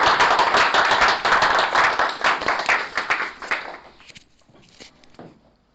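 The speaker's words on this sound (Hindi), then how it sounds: "अब प्रधान जी को हम आगे लाएंगे जोरदार तालियों से" Audience at a financial advisors' seminar clapping to welcome a guest to the front, a dense burst of applause that thins into scattered claps and fades out.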